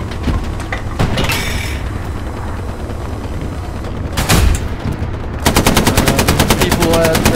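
Machine gun fire in the World War II shooter Hell Let Loose, with sustained loud rapid bursts, a heavy blast near the middle and a fast rattling burst at the end.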